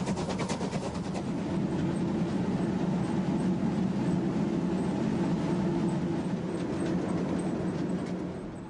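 Steam locomotive 03 1010 hauls a double-deck passenger train, a steady, loud rolling rumble of wheels and carriages on the rails that holds without a break throughout, with no voices.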